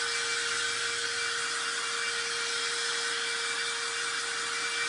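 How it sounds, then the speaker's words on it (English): A small handheld heat dryer used for craft drying blows with a steady, even whoosh and a constant whine, loud and close with no talking. "we're going to dry this real quick with my little baby dryer"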